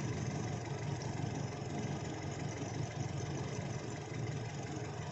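A Toyota Innova with a 1TR engine idling with a misfire, a steady low mechanical rumble with faint uneven pulsing, close and fairly quiet, with no voices.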